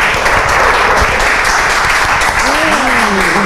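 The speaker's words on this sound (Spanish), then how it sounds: "Vamos a recibir entonces con un fuerte aplauso" A crowd applauds loudly and continuously, dense clapping filling the room, with a voice briefly rising near the end.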